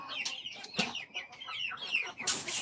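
Free-range native and heritage chickens cluck and chatter close by in a backyard flock, with overlapping short calls in quick succession and no talking.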